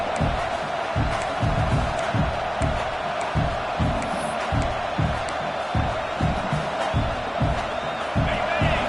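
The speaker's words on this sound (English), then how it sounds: "And here comes the noise. This crowd is trying to inspire this defense to make a big red zone stop." A huge college football stadium crowd at a Clemson game roars continuously, with rhythmic pounding chants and stomps pulsing through the noise at a steady beat.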